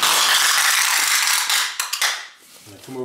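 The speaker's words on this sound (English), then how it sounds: "So I usually start on the side and I stick it to the tape that I already put on the bottom." Packing tape rips off the roll and is pressed onto a cardboard box being sealed for shipping, a loud, close, continuous tearing screech for about two seconds, then fading into short rattles and a brief voice.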